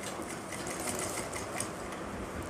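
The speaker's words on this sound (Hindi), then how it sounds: "इस जगह से आपको सिलाई शुरुआत करनी है" A sewing machine runs steadily while stitching the belt of a Patiala salwar, a continuous fine mechanical whir at moderate level with no pauses and no talk.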